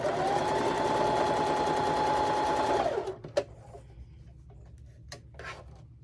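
A sewing machine stitches a Halloween wall hanging quilt, a close, steady rapid whirring run for about three seconds, then stops, followed by a few faint clicks and handling sounds.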